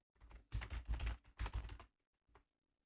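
Bursts of rapid typing on a computer keyboard while account details are entered, two dense runs of close keystrokes with a short pause between them, then one brief tap after a quiet gap.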